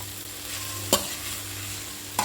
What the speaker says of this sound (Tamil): ஸோ இதை வந்து நல்லா இந்த எண்ணெயில் நம்ம நல்லா வதக்கிடணும்.